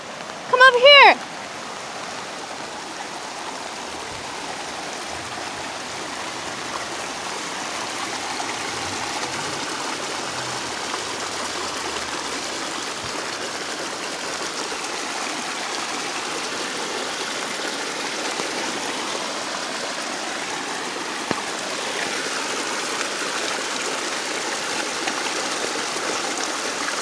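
A river flows in a steady, broad rushing wash of water, continuous and moderately loud, with a brief burst of voice at the start and a small knock later.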